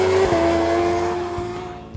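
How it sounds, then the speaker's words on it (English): A racing motorcycle's engine on a track holds a high throttle whine that sags and fades as the bike pulls away, heard fairly close with no talk. "Listen to those throttles."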